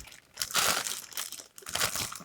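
Plastic shipping bags holding sweaters from Amazon crinkle and rustle as they are opened, close and fairly quiet, in a few uneven bursts with short pauses between them.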